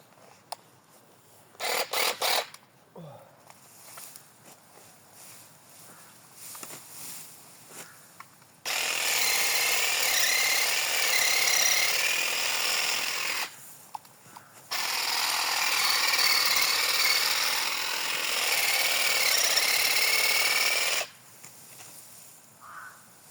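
A Dnipro-M 18V battery hedge trimmer cuts ornamental grass such as pennisetum and miscanthus, long loud buzzing runs of steady motor whine after scattered rustling and clicks, close by.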